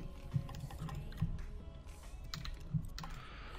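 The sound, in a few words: mouse clicking placing quartz blocks in Minecraft video game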